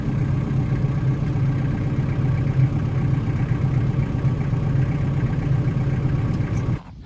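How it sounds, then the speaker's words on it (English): A tractor engine runs steadily nearby outdoors during maple sap collecting, a continuous low rumbling drone that holds at an even level for about seven seconds before dropping off abruptly at the end. "I don't know if you can hear with the tractor in the background"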